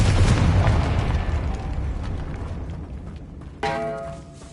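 Confringo spell explosion in a video game: a loud boom opens and rumbles away, then a second, brighter burst with a ringing metallic tail strikes near the end.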